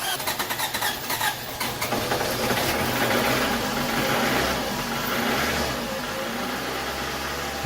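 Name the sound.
car engine starting and idling roughly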